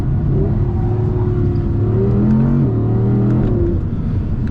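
An Audi R8 GT engine is held at full throttle while drifting, a loud, continuous droning roar with rising and falling pitch as the car slides, close and unbroken throughout.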